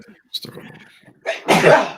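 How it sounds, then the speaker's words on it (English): A single loud, sharp sneeze sound effect bursts out at the end, after a few quiet spoken words. "Let's bring that sneeze again."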